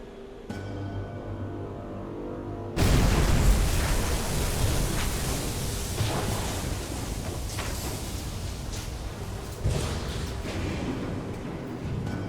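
A loud torpedo blast strikes a ship in the submarine game Uboat, opening with a sudden heavy boom and settling into a long rumbling roar, with a second smaller burst later on.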